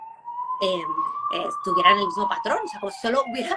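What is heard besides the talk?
ambulance siren passing by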